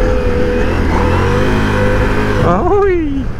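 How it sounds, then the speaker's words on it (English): A Ducati Multistrada V4 Rally engine revs hard and loud at close range, its pitch climbing and then falling away as the throttle closes, with a voice heard over it. "Oh, that engine."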